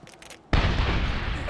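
A frag grenade in the game Medal of Honor (2010) goes off suddenly after a quiet moment, a single loud, close blast followed by a broad rumbling roar that rolls on without fading.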